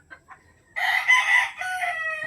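A rooster crows loudly and close, a long drawn-out call with hens clucking faintly before it begins.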